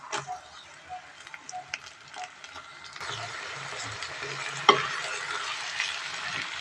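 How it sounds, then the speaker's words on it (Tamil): Onion and finely chopped bitter gourd sauté in a pan, with scraping stirs over a soft sizzle that grows fuller and louder midway, plus one sharp clink of the spoon; no talking. "வெங்காயம் எல்லாம் கொஞ்சம் நல்லா வதக்கி விடுவோம்"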